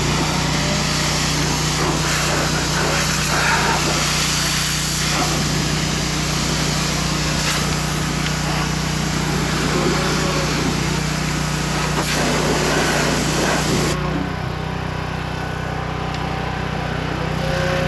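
A tractor engine with about 850 hours of use idles and runs in a steady, loud, high-pitched drone close by. A firm hum holds throughout and shifts slightly near the end. No speech is heard.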